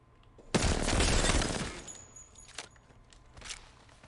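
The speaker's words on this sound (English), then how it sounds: "Headshot for the R99." R99 SMG in Apex Legends fires one rapid, loud burst of fully automatic fire lasting about a second, followed by a few fainter clicks and impacts.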